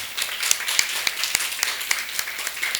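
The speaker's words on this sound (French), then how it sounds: "Est-ce qu'on peut applaudir très fort pour coach Peggy?" Steady applause from a studio audience on a talk show about professional coaching, for coach Peggy, a dense wash of clapping with a few sharper claps standing out.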